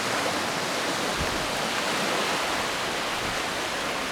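Ocean water surging and splashing against rocks at Ruby Beach, a steady broadband wash of surf with a few heavier low thumps, close and continuous with no voices.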